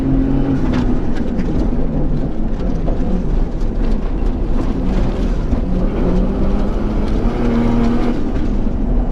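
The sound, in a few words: R4 rally Subaru engine accelerating on track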